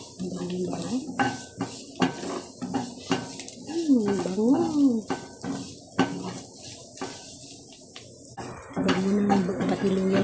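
Ginger and garlic sizzle in a pan while being stirred, with scraping and clinks of a utensil against the pan, and a voice talks intermittently over the cooking.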